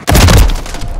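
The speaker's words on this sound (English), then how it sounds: "Somebody's shooting." Gunfire in the Call of Duty: Modern Warfare 3 video game, a single loud close boom with a booming tail that fades over about a second.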